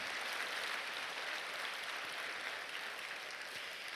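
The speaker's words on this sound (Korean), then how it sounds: "우리 한번 박수로 하나님께 영광 올리겠습니다" A church congregation claps together during a Korean sermon, a dense, steady wash of applause that holds evenly for about four seconds with no voices over it.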